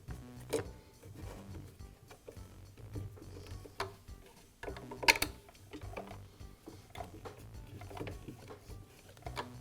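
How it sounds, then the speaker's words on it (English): Three screws being driven by hand to fix the first half of a DeWALT planer's new fan housing to the motor, giving quiet, close, irregular ticking and clicking with a few sharper knocks and no talking. "I'll align it with the motor and secure it with the 3 screws."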